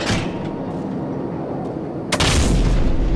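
Artillery fire from an aircraft gunship on enemy personnel near a church, a sharp heavy blast at the start and another loud boom later, over a steady engine drone.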